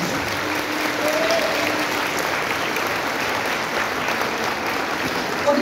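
An audience at a New Year folk music concert breaks into loud, sustained applause, dense clapping that fills the whole stretch evenly.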